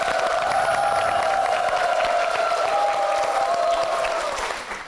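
A studio audience at a talk show applauds in a full, steady wash of clapping. A held musical tone sits over it, and both taper off at the very end.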